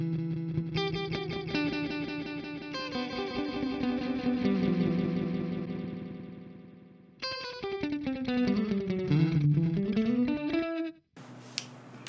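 Electric guitar run through a Boss BE-5 multi-effects unit with delay set around 500, playing sustained chords and then a descending and rising melodic line with echoing repeats, loud and alone, ending with a brief different tone.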